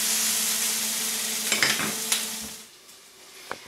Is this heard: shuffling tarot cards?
no